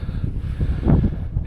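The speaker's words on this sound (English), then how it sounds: "it's super windy over here" Steady wind buffets the microphone in low rumbling gusts, swelling briefly near the middle, with no voices.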